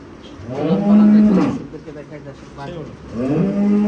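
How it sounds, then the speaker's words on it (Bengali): A dairy cow at a cattle farm near Dhaka gives two loud, drawn-out moos, one at the start and another near the end, with quieter farm background between them. "চলুন এই যে একটা গাভি দেখতে পাচ্ছি আমরা"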